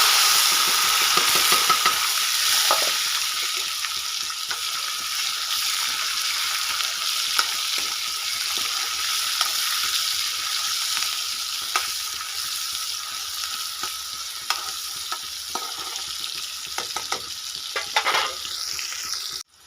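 Onion and tomato frying in a pan, a loud continuous sizzle broken by scattered scraping stirs, close and steady with no talk.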